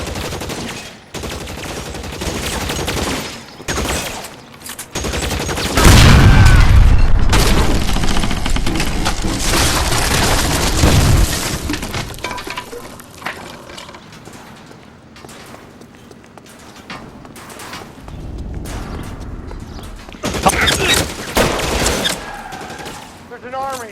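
Gasoline barrels at the base of a column are shot and blow up in L.A. Noire: heavy rolling explosions with deep booms, followed by scattered gunfire and rapid bursts, loud and close throughout.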